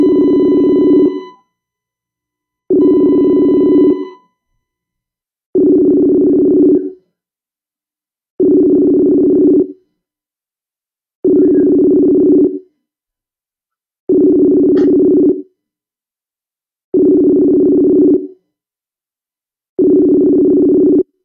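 Unanswered phone call ringing back, a steady low double-pulse ring tone repeating eight times at even intervals with silent gaps, clear and alone with no talk.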